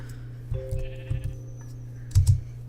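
Sheep in Minecraft give a few short synthetic bleats, the last pair louder, over a steady low game hum with faint clicks.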